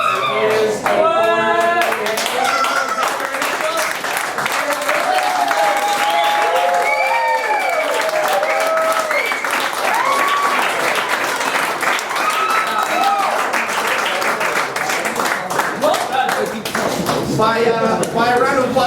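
Sustained audience applause at a Brick & Mortar magic show following a trick, dense steady clapping from a crowd filling the whole stretch, with cheers and voices mixed in and whistling near the end.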